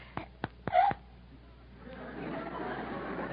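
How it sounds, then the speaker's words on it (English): A baby being burped in an old radio drama: a few short soft bursts and a brief squeaky hiccup-like gulp, then a low murmur of background noise. "Burp him before he's sound asleep."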